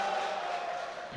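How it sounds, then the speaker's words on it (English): A crowd at the European Open Classic Powerlifting Championships cheers and roars, a brief, full, sustained wall of voices at moderate loudness. "listen to the crowd."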